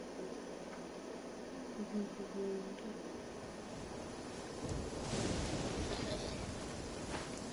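A thunderstorm in the Genshin Impact video game, with steady rain hiss and a deep rumble of thunder swelling midway, loud and close, with a faint voice in places.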